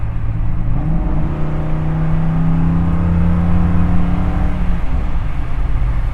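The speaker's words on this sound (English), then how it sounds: "I'm gonna stomp the throttle for you guys right now." A custom 1959 Chevy El Camino with a V8 revs hard, heard from inside the cab: a deep, loud engine note climbs and holds steady for several seconds, then eases off near the end.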